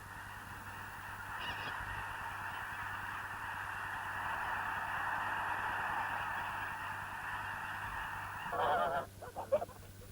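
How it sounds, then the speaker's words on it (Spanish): A dense flock of cackling geese crowded in a valley keeps up a steady background clamour, with a few closer, louder honks coming through, mostly near the end. "Estos son gansos Caplin, una especie de Canadá."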